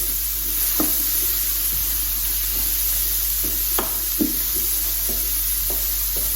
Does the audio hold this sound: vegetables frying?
yes